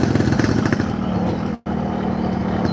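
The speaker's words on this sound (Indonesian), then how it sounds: "Mesinnya koyo adem tapi dirasa-rasa kok kemeriuk itu ya" A Yamaha RX King two-stroke motorcycle with a ported engine runs nearby with a steady, buzzing, slightly rattly hum that briefly cuts out for a moment, then resumes.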